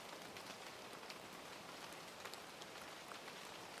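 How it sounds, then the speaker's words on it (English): Steady rain pours outside a quiet room at night, a dense, even hiss with occasional brighter drop patters, continuous and soft throughout with no voices. "the rain falling outside"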